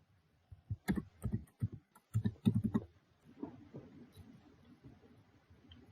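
Quick bursts of typing on a computer keyboard while renaming a task step, clustered clicks and key taps in two short runs, close and fairly quiet, then fading into softer scattered taps.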